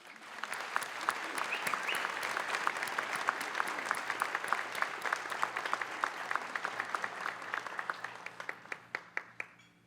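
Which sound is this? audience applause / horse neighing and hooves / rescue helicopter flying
audience applause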